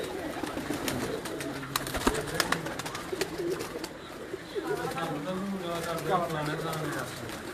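Pigeons coo in soft, low, rolling calls, growing clearer toward the end, amid faint background voices and occasional clatter.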